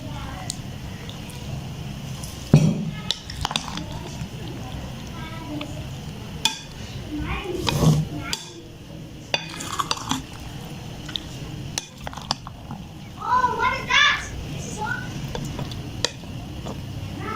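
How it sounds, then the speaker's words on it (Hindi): Potato pakoras are being mixed in a bowl at close range, with soft stirring, squishing and the clink of a utensil against the dish in irregular bursts, set against a steady kitchen background. "ये आलू पकौड़ियाँ मैं अच्छी तरह करती हूँ मिक्स।"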